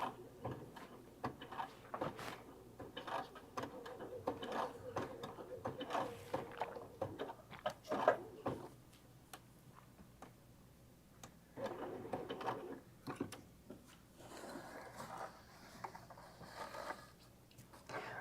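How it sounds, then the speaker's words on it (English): A Sashiko stitching machine sews decorative stitches around fabric flowers for a bag, making a low, uneven mechanical whirring and clicking in bursts with pauses, fairly quiet. "Apparently, Ruth Ann has been dreaming about the Sashiko machine."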